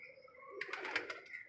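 A brief, faint burst of cooing from pigeons held in a net at a pigeon house, a few close, soft warbling calls with no talking.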